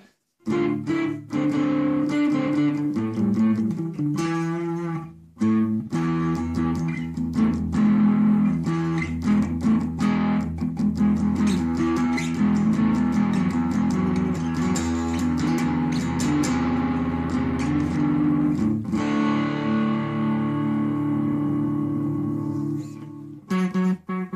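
Electric guitar played through a Joyo Digital Delay pedal, notes repeating and smearing into a thick sustained wash, with a brief gap before the playing resumes.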